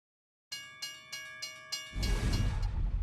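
A model train horn sounds in five short, evenly spaced toots, then a loud rumbling rush of running noise takes over, close by.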